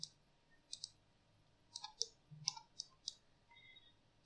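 Computer mouse clicking while modeling in Maya, a run of faint, sharp single and double clicks spaced irregularly at close range over a quiet background, no voices.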